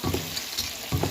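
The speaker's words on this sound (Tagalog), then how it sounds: "Tapos, ginisa lang natin sa buro." Clams, mussels and shrimp sauté in buro, the fermented rice paste, giving a close sizzle with two brief bursts of stirring at the start and end.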